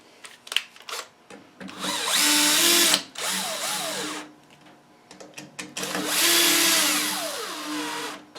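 Power drill driving screws into the front of a furnace blower housing during an ECM motor repair, two long whirring runs with short bursts and pauses between them, close and loud.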